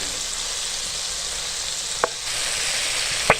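Korean chicken wings frying in oil over medium heat, a steady soft sizzle throughout with two brief sharp pops or clinks near the end, no talking.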